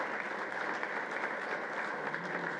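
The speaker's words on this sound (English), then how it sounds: "Please give them a round of applause" Crowd at a national inauguration event gives a sustained round of applause, a dense and even wash of many hands clapping, heard from a distance.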